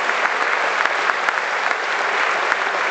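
Steady applause from a crowd at an award ceremony, a dense wash of clapping hands that holds at an even, fairly loud level throughout.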